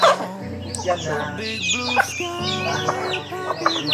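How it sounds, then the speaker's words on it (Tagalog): A flock of backyard chickens clucking busily and close by, a steady overlapping run of short clucks and calls with no talking. "Yan dami ng manok ko tol."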